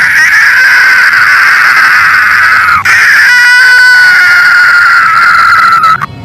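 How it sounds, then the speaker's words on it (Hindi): A witch screams from a haunted tree in a Hindi horror cartoon, a loud, sustained, shrill wail that wavers in pitch, with a brief break and a stuttering tremble partway through. "उसके छिड़कते ही पेड़ से चुड़ैल के चिल्लाने की आवाजें आने लगती है।"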